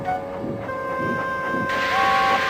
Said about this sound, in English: He backed down onto his train, hissing mournfully.